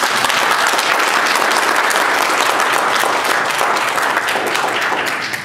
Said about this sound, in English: I'm going to ask you now to clap.